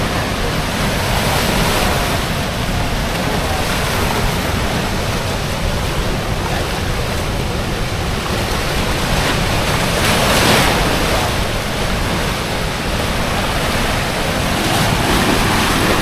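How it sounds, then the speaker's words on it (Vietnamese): Floodwater pours from the spillway of the Tri An hydropower dam as a loud, unbroken roar of rushing water, dense and constant for the whole stretch, with wind buffeting the microphone. "lúc này nước đang chảy xuống giống như là một biển nước vậy"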